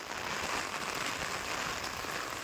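Heavy cyclone rain pouring outdoors, a dense steady hiss of rainfall that carries on evenly throughout with no other sound standing out.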